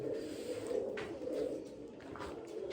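Pigeons in a loft, including fancy and Sirazi breeds, give low repeated cooing in overlapping rounds, steady and close, with no voices.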